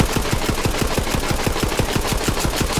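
Pistol fire in Borderlands 3 during a battle royale mode, heard as a fast, steady run of evenly spaced loud shots with no gaps and no speech over it.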